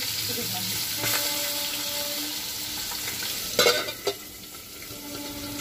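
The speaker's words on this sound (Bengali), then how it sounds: "আর এদিকে কাঁকরোলটা ভেজে নিই।" Spiny gourd (kakrol) frying in a pan in a home kitchen, a continuous sizzle with a few louder stirring clatters midway.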